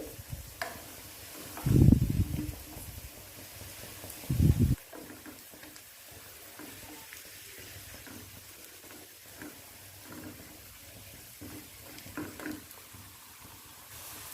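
Taro root slices frying on a tawa, a soft continuous sizzle with a couple of louder bursts of spatter and scraping as the slices are turned.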